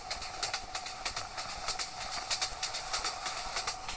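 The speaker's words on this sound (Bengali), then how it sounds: "ট্রেনটি এখন অনেক স্পিডে চলছে।" At high speed, the Suborno Express in Train Simulator Bangladesh clatters along in a quick, even clickety-clack rhythm over a constant rushing rumble, loud and close, with no voices.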